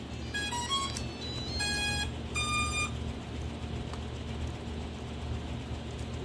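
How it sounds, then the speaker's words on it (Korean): A FIFISH V6 Expert underwater drone powering on gives several bright electronic beep sequences of rising and falling tones, clear over a steady background hum, then goes quiet apart from the hum. "리모컨에서도 작은 소리로 났고 본체에서 큰 소리로 삐리릭 삐삐 소리가 반드시 나야"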